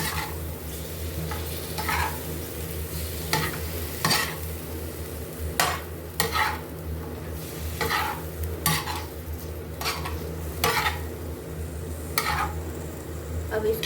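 Tomatoes and chicken being stirred on a hot tawa: repeated scraping strokes of a spoon against the metal over a steady low sizzle, close and fairly loud with no talk.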